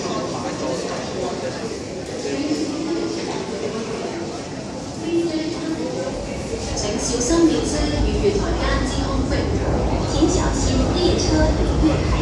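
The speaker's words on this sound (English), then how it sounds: "The train to T1 is arriving" An MTR Island Line M-Train rumbles into Admiralty station platform in Hong Kong, its low roar swelling toward the end amid station chatter and clatter.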